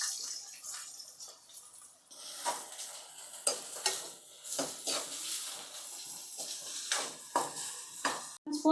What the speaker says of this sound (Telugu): ఇప్పుడు కట్ చేసుకున్న ఆనియన్స్ వేసేసేయండి.